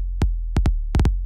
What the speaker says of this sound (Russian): И у меня получается как такая мелодия бочки